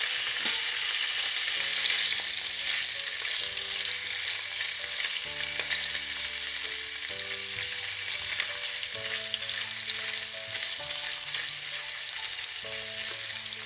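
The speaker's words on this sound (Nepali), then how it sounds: "अब पनिरलाई पनि म फ्राई गर्दैछु" Paneer, about 100 grams, frying steadily in a pan on its own, a dense continuous sizzle with soft stirring knocks, fairly close and moderately loud throughout.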